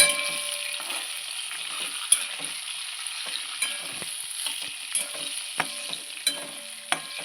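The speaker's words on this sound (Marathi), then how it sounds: "वांगे चांगले फ्राय झालेत" Eggplant fries in a pan with red chili powder and turmeric, giving a steady close sizzle with sharp clicks and scrapes of a spoon at irregular intervals and no voices.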